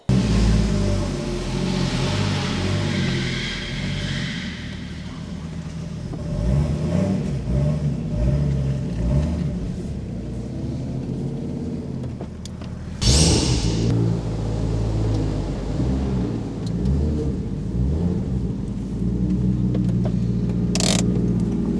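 A Toyota Mark II or Chaser starts up and is driven out of a hall into the yard, its engine rumbling steadily with revs rising and falling, close and fairly loud, with a sharp bang or clank partway through.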